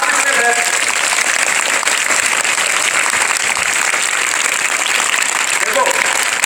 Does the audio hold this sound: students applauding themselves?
yes